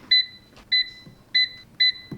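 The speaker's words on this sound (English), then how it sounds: "let's test the beeps real quick." Four short, bright electronic beeps from a Dreo ChefMaker cooking appliance's buttons, evenly spaced and close, each followed by a soft click in a quiet room.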